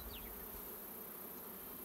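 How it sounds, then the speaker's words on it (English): Honey bees buzz around hives during a honey harvest, a steady, dense drone filling the air with no talk. "we're taking the honey off the hives, putting it on the truck"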